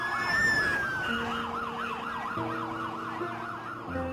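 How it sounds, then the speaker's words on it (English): Several emergency sirens in New York wail at once, overlapping rising and falling tones with a long high whoop, loud and sustained amid distant traffic. "from every direction, you just heard sirens coming."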